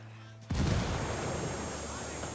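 A frag grenade exploding in the video game Ghost Recon Wildlands: one sudden, loud, close blast with a deep low thump, then a sustained rumbling decay.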